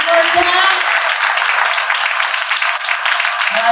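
A crowd applauds loudly and steadily, a dense wash of clapping that carries on throughout.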